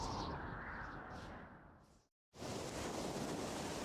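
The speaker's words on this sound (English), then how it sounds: "I hear waves." Video-game ocean surf: a broad, steady wash of waves rolls and hisses, cuts to brief silence, then resumes just as full and continuous.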